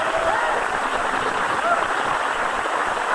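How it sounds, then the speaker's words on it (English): Studio audience at a Comic Relief comedy show giving a round of applause for a pop-talent-show contestant, a dense, loud, continuous wash of clapping with no pauses. "I'd like a round of applause for Darius from Popstars."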